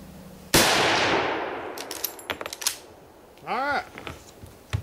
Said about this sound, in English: Last shell, I'm just going to go ahead and shoot.